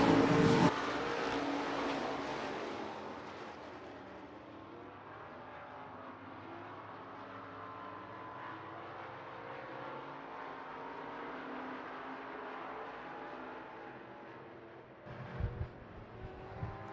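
Stock cars race around the Hancock County Speedway track in a steady, distant engine roar that fades slightly mid-clip, with a few closer bumps near the end.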